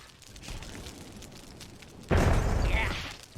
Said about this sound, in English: It's time for some explosions.